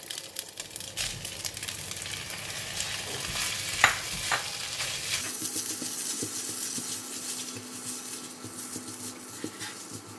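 Pattaya fried rice with prawns and egg being stir-fried, a steady sizzle with scraping and clinking of a spatula against the pan, one sharper knock partway through, no talking.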